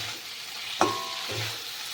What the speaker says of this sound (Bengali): দেখুন মশলাটা ভাজা হয়ে গেছে আর